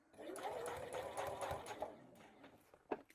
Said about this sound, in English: Sewing straight down.